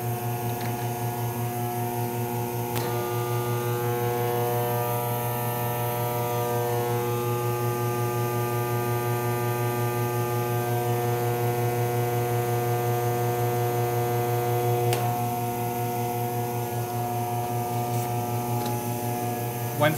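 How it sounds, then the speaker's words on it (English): A Flip Top Plate Maker hums steadily while its UV light exposes a photo intaglio printing plate, a constant electrical drone with a few faint clicks. "we are going to flip the top, ergo the name Flip Top Plate Maker, and expose it to UV light"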